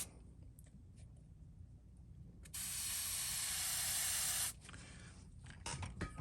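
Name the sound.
spraying iridescent blue paint onto a fishing lure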